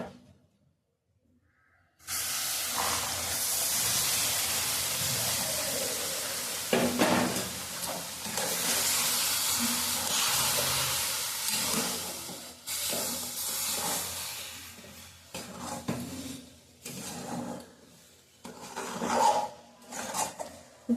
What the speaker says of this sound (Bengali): ওই দুধটা এখন আস্তে আস্তে ঢেলে দেবো